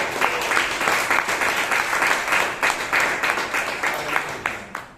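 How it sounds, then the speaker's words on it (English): Toastmasters club members in Bangalore applaud a speaker named Hannah, a continuous round of many hands clapping at a moderate distance, with a faint rhythmic pulse running through it. "So please give Hannah a big round of applause"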